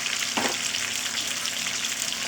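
Bitter gourd sizzles steadily in hot oil, with a brief scraping stir near the start; the frying hiss stays close and continuous throughout.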